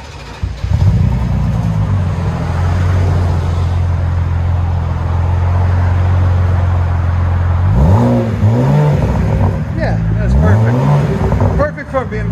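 A 2014 BMW Z4 with a 3.0L inline-six and Vibrant resonators idles with a loud, steady low drone, then revs sharply several times near the end in quick rising and falling bursts.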